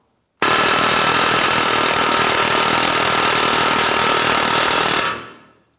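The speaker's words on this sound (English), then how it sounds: "now we can start using our air hammer" An air hammer drives a torsion bar forward out through the front lower control arm of a 2007–2014 GMC Sierra 2500 HD, a loud, continuous rapid hammering that runs about four and a half seconds before stopping abruptly.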